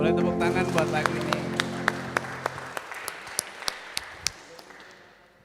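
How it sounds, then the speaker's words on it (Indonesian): Church congregation applauding after a worship song at an Easter praise night, a burst of dense clapping that thins into scattered claps and fades out, with a lingering musical tone at the start. "Boleh tepuk tangan buat lagu ini."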